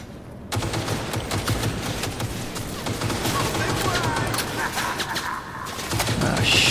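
Wall-mounted turrets in Cyberpunk unleash sustained rapid gunfire, a dense rattling barrage after a brief quiet start, with someone talking over the shooting.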